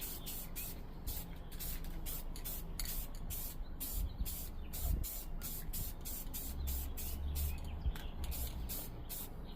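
A can of Rust-Oleum Satin Black spray paint hisses in quick, evenly spaced bursts, close up, over a steady low background rumble.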